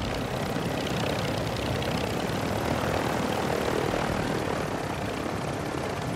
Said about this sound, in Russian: Я угнал вертолет, братан!